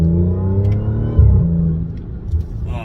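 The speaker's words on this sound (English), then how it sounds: "the supercharger is so much louder now" A supercharged Audi S5 engine with a carbon intake and open exhaust revs hard with a deep, throaty roar that swells and rumbles, close and loud, with a brief higher supercharger whine near the end.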